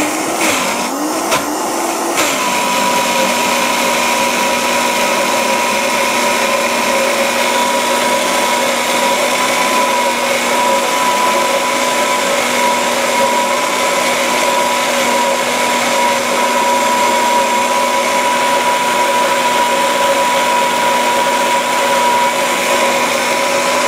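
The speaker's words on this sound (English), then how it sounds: "Now with the Vitamix, you can make this super, super creamy" A Vitamix blender runs loud and steady close by, its motor holding a sustained high whine throughout after a brief rough, shifting start.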